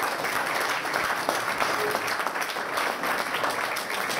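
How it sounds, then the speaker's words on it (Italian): Audience applause at a local election candidates' presentation in Porano, a steady dense clapping from a crowd that holds evenly for about four seconds with no voices over it. "accogliamo con un bel applauso."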